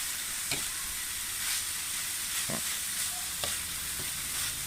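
Indian trumpet tree pods being stir-fried in a pan, heard as a continuous soft sizzle broken by several sharp scraping stirs at irregular intervals.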